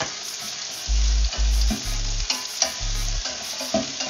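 Onion and ginger sizzle in hot oil with golden garlic, a close crackling hiss broken by rhythmic scraping strokes of a utensil stirring the pan, several firm stirs in a row.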